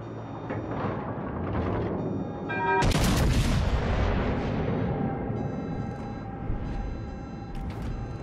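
Massachusetts battleship secondary guns firing in World of Warships Legends, a sharp loud blast near three seconds breaking over continuous rumbling battle noise, with a lingering roar and scattered later shots.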